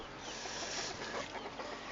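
A flock of chickens being fed, a dense, continuous chorus of clucking and soft calls from many birds nearby, steady throughout with no talking.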